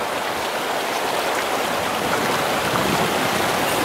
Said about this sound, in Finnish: Hieno koski se on.